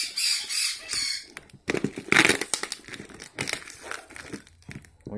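Crinkly sealed plastic packaging of a shipped incubator kit being handled and unwrapped, with bursts of crumpling and rustling close by, growing busier and louder partway through.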